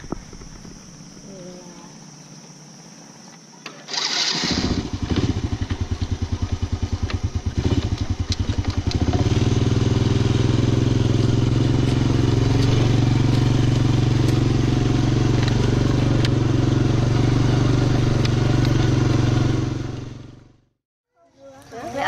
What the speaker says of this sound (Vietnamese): Mình đi xe máy lọt chui qua cái khe này.